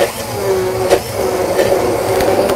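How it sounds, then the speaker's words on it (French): A blender whirs steadily as it mixes raw cucumbers with gelatin syrup, a close, loud motor whine with a few clicking bumps through the run. "Et je vais mixer."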